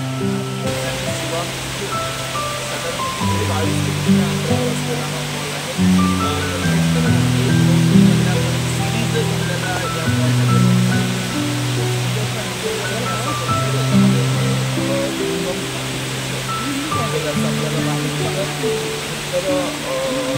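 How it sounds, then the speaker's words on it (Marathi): Elephant Falls waterfall in Meghalaya roars with a steady, dense rush of falling water, loud and continuous throughout, with voices talking faintly beneath it. "आम्ही पाहतोय हे खरं तर एलिफंटा फॉल."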